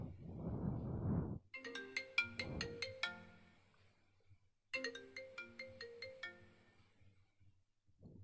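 An iPhone XR ringtone plays through the phone's speaker in two bursts of bright melodic chime notes separated by a short gap; a louder noisy rustle comes before the first burst.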